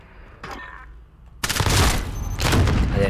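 Shotgun and other gunfire in Call of Duty Modern Warfare Cyber Attack mode, a faint early report followed by loud, dense bursts of booming shots and rattling fire close by.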